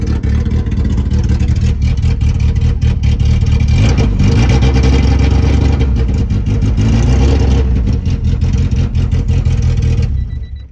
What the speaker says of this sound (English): Yeah, it's misfiring really bad,